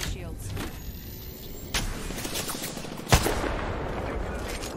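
Gunfire rattles in the Apex Legends video game in bursts and single sharp shots of mid loudness, with one louder crack near the end, mixed under a player's talk.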